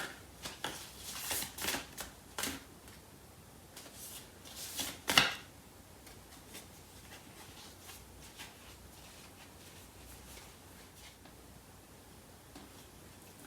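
Cards from a Lovers Oracle deck being shuffled and drawn, a run of soft papery riffles and slides close by, one sharper snap partway through, then quieter handling with no talking.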